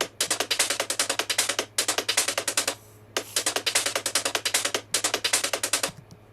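Percussion sample in a Logic Pro pop production, run through a strict noise gate and Space Designer reverb: rapid gated bursts in tight repeating phrases, separated by abrupt silences, loud and dry-cut, with no voice.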